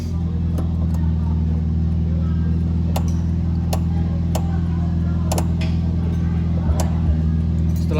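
A car engine idles after being started during a periodic service check, a steady low droning hum with faint scattered ticks and clicks over it, close and constant throughout.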